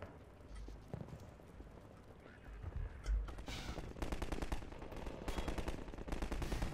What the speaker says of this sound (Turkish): Hala bir yerlerden silah sesi geliyor